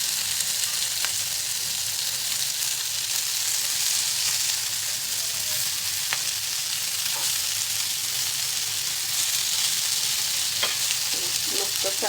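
Marinated malai soya chaap fries in a pan, a loud, steady, hissing sizzle that holds unbroken throughout, with only faint occasional ticks and pops from the pan.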